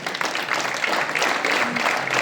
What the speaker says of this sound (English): Clap all of you.